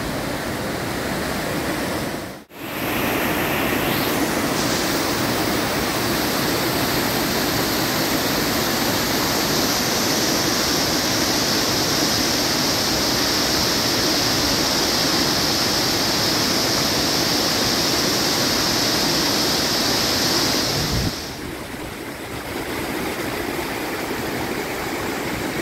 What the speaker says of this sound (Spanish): Y aquí estamos en la parte superior de la cascada doble.